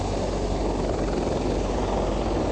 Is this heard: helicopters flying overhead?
yes